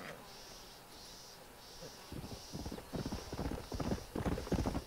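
Horse hooves clip-clop in the Red Dead Redemption video game, a quiet, rhythmic run of hoofbeats that start around two seconds and grow steadier, with a soft repeating high chirp in the background.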